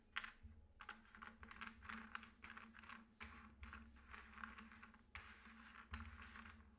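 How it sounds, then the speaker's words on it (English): Game pieces or cards are shuffled up for a Kursk 1943 board wargame scenario, heard as quick clicking, rattling bursts in a steady pattern of repeated handling, close and moderately quiet. "just shuffle it up like that"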